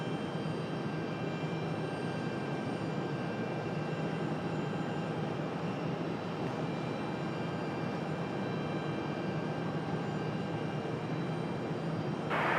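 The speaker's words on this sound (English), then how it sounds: "Here comes our FedEx A300" A FedEx Airbus A300 arriving at Raleigh Durham airport produces a steady, distant jet engine roar that holds evenly throughout.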